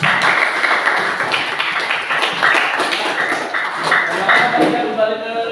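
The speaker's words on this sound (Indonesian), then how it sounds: "Kita kasih tepuk tangan dulu untuk kelompok 3." Classroom applause for a student group, loud, close, brisk clapping from a roomful of students, with rhythmic claps and a few bright taps, and voices chattering underneath.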